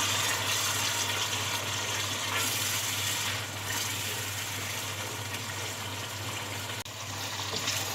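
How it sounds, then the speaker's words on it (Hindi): A little water is poured into masala frying in a pan for spicy mutton paya, giving a steady hissing, gushing wash of sound that runs the whole stretch, close and fairly loud, with no talking. "मैं इसमें थोड़ा सा पानी शामिल करूंगी और मसाले को मज़ीद भूनूंगी।"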